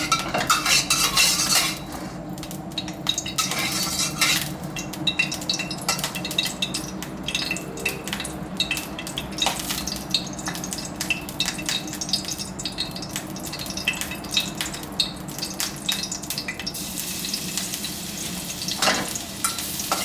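Garlic stir-fried in pork lard in a wok for a mixed vegetable and fresh shrimp dish, with a steady close sizzle and repeated metal utensil scrapes and clanks against the pan.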